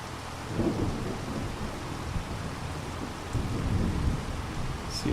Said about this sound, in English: whenever it stops raining